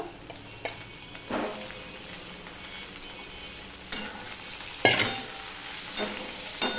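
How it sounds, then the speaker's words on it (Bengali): Potato and pointed gourd pieces fry in a pan for a light fish curry, giving a steady soft sizzle with occasional sharper scrapes and stirs of a spatula, close up and with no talking. "ঢাকা দিয়ে আলু পটলটা ভেজে নিয়েছি ভালো করে"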